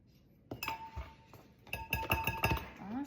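A utensil stirs gluten-free bread dry ingredients, including xanthan gum and salt, in a bowl, giving a few bright clinks and taps against the bowl, close and moderately loud, with no talk.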